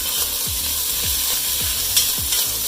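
Meat replacement, tofu-based, sautés in a pan with a constant hiss of frying, and a utensil scrapes through it in four evenly spaced stirs, close and with no voices.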